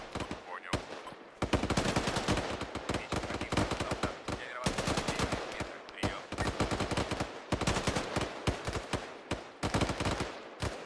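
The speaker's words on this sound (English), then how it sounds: "There's just constant AK fire." Sustained automatic AK rifle fire in the military game Arma 3, dense rapid bursts of loud cracking shots with only brief gaps, going on almost without pause.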